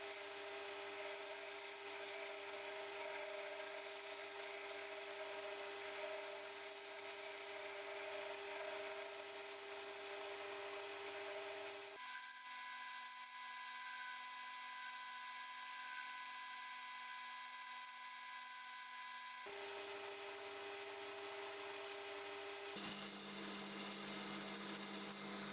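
A lathe turns a print-maker's engraving tool handle into a concave shape, a sustained high whine and scraping hum that shifts pitch in distinct stages, steady and close with no talking.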